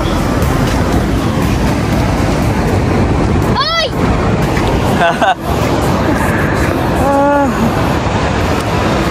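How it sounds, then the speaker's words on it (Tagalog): High, dangerous ocean waves, a constant loud roaring wash of surf filling the whole stretch, with brief whistles or calls and excited voices of people talking over the crashing water. "Grabe yan, taas ng alon oh, delikado na yan."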